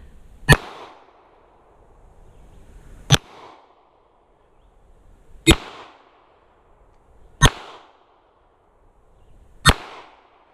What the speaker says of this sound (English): But you can see it's still shooting fairly consistently.